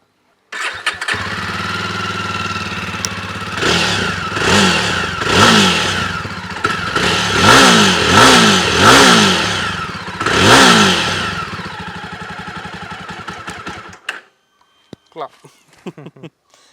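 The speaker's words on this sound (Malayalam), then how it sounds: "അഗ്രസീവായിട്ട് വേണമെങ്കിൽ ഓടിക്കാൻ നമുക്ക് തോന്നുന്ന ഒരു എക്സോസ് നോട്ടാണ് വന്നിരിക്കുന്നത്" A Jawa 42 Bobber motorcycle starts up and idles, then revs in repeated rising pulls with a throaty exhaust note, loud and close, before cutting off; a voice speaks briefly near the end.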